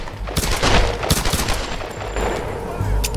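Enemy gunfire in the action game Tomb Raider, rapid sharp shots and bursts cracking close by in quick irregular clusters, with a faint metallic ring trailing through the middle.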